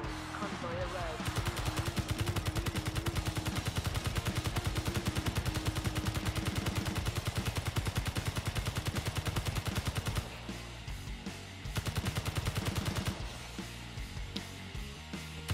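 Rapid, sustained automatic gunfire from the game Space Engineers, loud and continuous in long bursts with brief pauses near the end, while voices talk over it.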